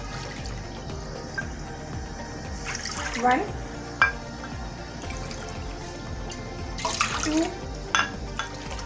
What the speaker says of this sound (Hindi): हमने यहाँ पर 3 कप पानी लिया है